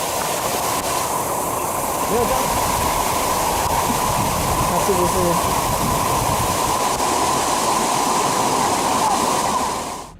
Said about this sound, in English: several large waves of mud and rock came rushing down, making a crossing impossible